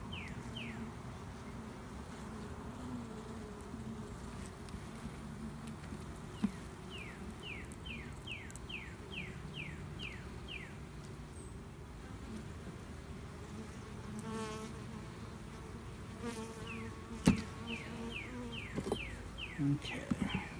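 Honey bees buzzing around an open beehive, a faint steady drone with individual bees zipping close by in repeated short passes, quiet overall with a few handling knocks near the end.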